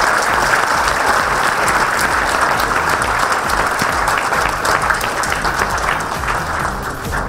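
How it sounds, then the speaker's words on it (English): A hall audience at a corporate event in Mumbai claps loudly and continuously, a thick, even wash of many hands that holds steady throughout and tapers slightly at the end. "let's give them a big hand of applause"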